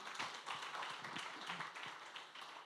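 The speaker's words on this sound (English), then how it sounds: "Can we give her a round of applause, please?" Audience at a consulate business event applauding, a quiet, thin patter of scattered hand claps throughout.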